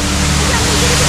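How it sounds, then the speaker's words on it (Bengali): Changey Falls in Kolakham, North Bengal, roars as a loud, steady broadband rush of falling water heard close up, with a voice speaking over it. "This is the ছাঙ্গে waterfall."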